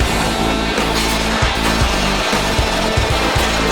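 A large air impact wrench used with a torque multiplier hammers loudly up close, giving a continuous harsh rattling roar with rapid pulsing impacts and no speech.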